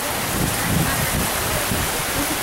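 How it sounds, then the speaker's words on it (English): Rain falls steadily around a tiki hut outdoors, a dense even hiss with a soft rumbling undertone and no distinct drops standing out. "tiki hut while it's raining like that"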